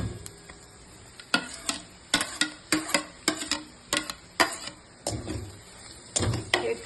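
Turmeric and chili powder stirred briefly in hot oil in a pan for karela bhaji, with soft sizzling broken by repeated sharp scrapes and taps of a spoon against the pan in an uneven rhythm, close and moderately loud.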